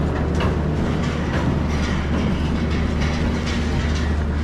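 Train at an Indian railway station, a loud continuous low rumble and engine drone with a busy noisy background throughout.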